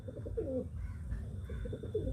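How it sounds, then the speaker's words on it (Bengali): Pigeons coo inside a cage holding a pigeon chick, giving soft, low, throaty coos repeated in a gentle rhythm, close by but quiet. "একটা বাচ্চা আছে ওখানে, পায়রার বাচ্চা দেখতে পাচ্ছেন"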